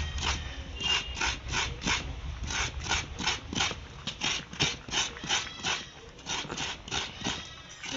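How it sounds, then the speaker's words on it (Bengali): Coconut being grated on a traditional kuruni hand grater, a close series of quick, evenly paced rasping scrapes that repeat steadily throughout, with soft clattering between strokes. "নারকেল কোড়া হয়ে গেছে।"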